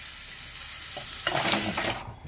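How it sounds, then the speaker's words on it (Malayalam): Water goes into a hot pan of fish curry and sets off a soft bubbling sizzle that swells midway, stays close and moderate in level, and then fades, with no talking. "അപ്പം നമുക്ക് ഇതാവശ്യമായ വെള്ളം ചേർത്ത് കൊടുക്കാം"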